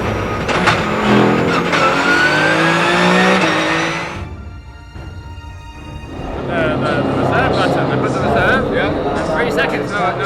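A Porsche race car at the Sebring 12 Hours, its engine revving loud and close, then dropping away briefly before surging back, with commentary spoken over it.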